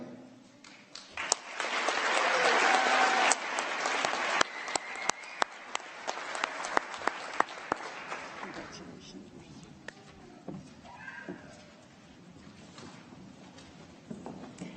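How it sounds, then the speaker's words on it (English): Audience applause at a nursing pinning ceremony swells loudly, holds for several seconds, then thins into scattered individual claps that fade out, leaving a quiet room with faint voices. "we give them all one more round of applause"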